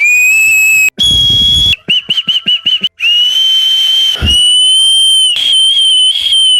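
Loud, piercing finger whistles, played alone as a string of long sustained blasts with one quick burst of short repeated chirps in the middle, near and strong with brief gaps between.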